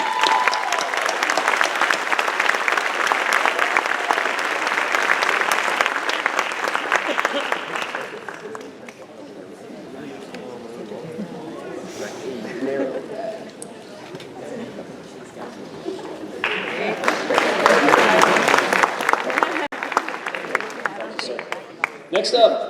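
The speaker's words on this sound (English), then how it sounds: "Please give a round of applause to Mr. Karsten Kinley." Audience at a senior awards ceremony applauding, a loud burst of clapping that fades to a quieter stretch with murmuring before a second strong wave of applause rises.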